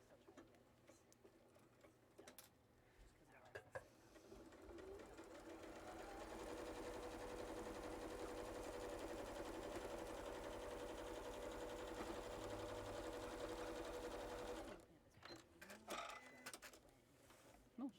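A sewing machine runs steadily during quilting, its rapid mechanical whir swelling from quiet ticks into a sustained, moderately close hum before stopping.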